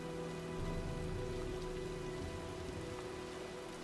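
Heavy rain pours in the Heavy Rain video game, a loud dense steady patter on surfaces with a low droning hum underneath, continuous throughout.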